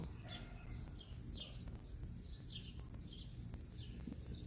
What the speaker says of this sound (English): there's a chipping sparrow